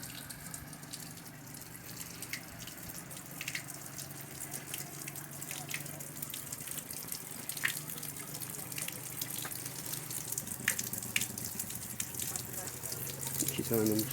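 Water runs steadily from the spout of an outdoor public drinking fountain built in 2013, a continuous close splashing stream with scattered drips and faint outdoor background for about fourteen seconds.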